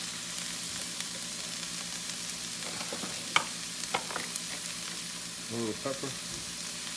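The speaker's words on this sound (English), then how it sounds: "Just start stirring immediately." Cabbage frying in a hot pan while being stirred and turned, a steady close hiss with faint scraping and clinks of the utensil; a voice speaks briefly over it.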